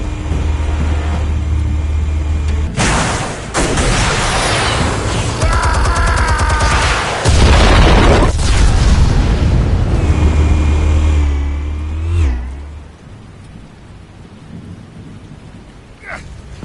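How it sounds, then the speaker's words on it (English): Heavy explosive detonations in the video game Batman: A Telltale Series, deep booming blasts and rumbling debris that roar loudly for several seconds before fading into a quieter tail. "Explosives armed. Fire when ready."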